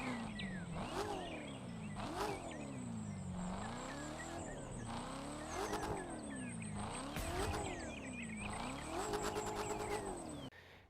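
Corvette Stingray Interception Unit in The Crew 2, its engine revving up and dropping repeatedly through gear changes in a rhythmic rising-and-falling whine, loud and continuous with occasional tire squeal.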